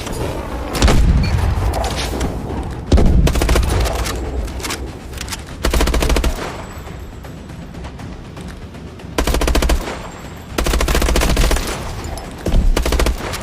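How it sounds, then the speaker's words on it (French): Grenade blasts and gunfire in the Call of Duty Advanced Warfare campaign, heavy booming bursts and machine-gun volleys coming in repeated loud waves with brief quieter gaps between them. "Utilise une autre grenade de marquage."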